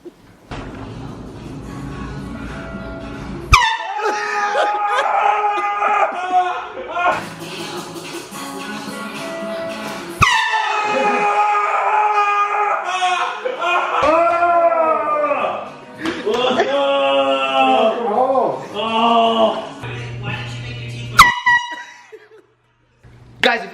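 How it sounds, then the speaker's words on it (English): Loud air horn blasts set off in a prank on a friend entering through a door, long blaring tones with wavering pitch that run repeatedly across the scene, mixed with laughter and excited voices, close and harsh. "I'm gonna prank him with the air horn."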